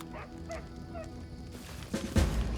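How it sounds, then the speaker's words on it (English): A small dog yips and barks a few times in Pathfinder: Kingmaker, short high calls over quiet game ambience, followed by a louder thump near the end. "Got a little doggy here."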